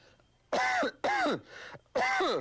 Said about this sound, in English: Well, you cough.